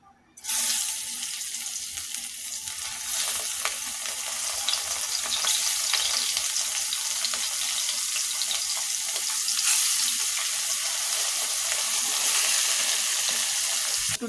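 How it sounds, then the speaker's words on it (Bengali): Fish sizzling loudly in hot oil in a home kitchen pan, a steady dense crackle running throughout with occasional sharper spits, close and continuous with no talk. "তেলটা আমার গরম হয়ে গেছে বেশ, মাছগুলো দিয়ে দেব।"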